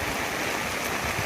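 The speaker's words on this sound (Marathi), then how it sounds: "पाऊस चालू आहे ना, लय 24 तास उघडच नाही." Continuous rain that has not let up for a day falls in a dense, even hiss at a steady loudness, with no pauses and no voices.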